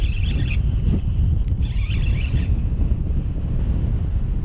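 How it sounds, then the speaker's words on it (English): Strong wind roars steadily across the microphone on a fishing boat, a constant loud rumbling buffet with faint bits of water and distant voices underneath. "Couldn't feel anything because the wind is blowing 100 miles an hour."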